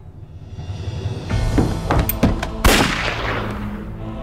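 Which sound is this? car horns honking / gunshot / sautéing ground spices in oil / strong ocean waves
gunshot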